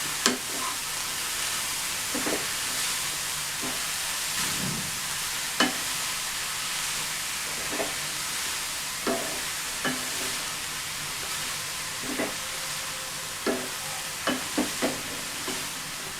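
Raw papaya thoran with onion, green chili and curry leaves sizzling over low heat in a pan, a constant soft frying hiss with occasional scraping stirs spaced several seconds apart, close and without speech.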